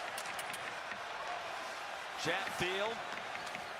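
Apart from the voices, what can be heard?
hockey crowd cheering at Rangers playoff game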